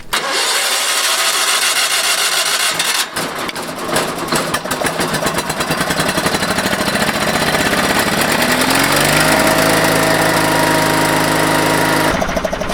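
An engine cranks over and catches, settling into a loud, continuous mid-pitched running rumble with steady rattling and shifting tone, and a sharp change near the end; no one speaks.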